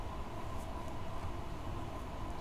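A commuter train in Train Sim World 2 runs along the track with a steady, continuous rumble and roar, loud and unbroken with no talk.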